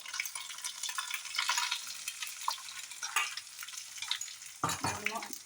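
Ground ginger and green chili frying in a pan while a Kerala puleenchi curry is prepared, a dense close sizzle with frequent scraping stirs and a louder clatter near the end, no voices.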